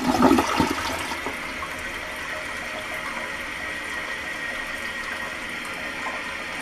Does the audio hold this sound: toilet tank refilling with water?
yes